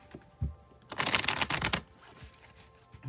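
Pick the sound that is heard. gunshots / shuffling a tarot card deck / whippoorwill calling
shuffling a tarot card deck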